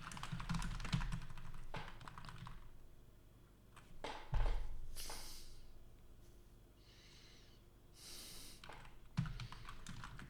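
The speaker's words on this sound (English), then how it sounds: "I hate typing this so much." Someone types on a computer keyboard at a desk, with bursts of quick close key taps broken by pauses, faint breathing and a few soft thumps, and no talk.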